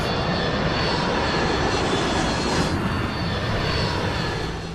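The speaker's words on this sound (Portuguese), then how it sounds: "De repente, eu vi o avião voando muito baixo." A roaring aircraft engine passes very low overhead, a loud, steady, broadband rumble that fills the whole clip without voices.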